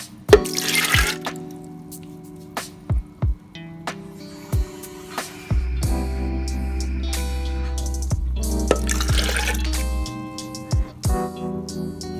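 Blended soybean milk strained through a doubled white cloth, with liquid dripping and trickling steadily into a container. Occasional soft clinks and knocks of handling come through over a low background hum.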